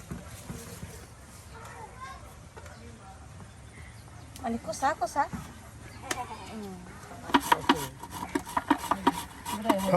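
A knife finely chops young, peeled bottle gourd in a rural kitchen, the rapid rasping and tapping strokes growing denser and louder toward the end, with a voice talking over it.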